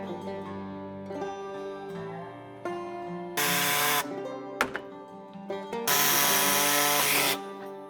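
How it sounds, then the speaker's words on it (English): A power tool cuts small plastic pieces off the bottom of a Toyota Tacoma bumper, giving a droning, tonal whine that rises into two loud bursts of harsh, full grinding, with knocks in between. "we're gonna cut these little plastic pieces off, just kind of level with the bottom of the bumper"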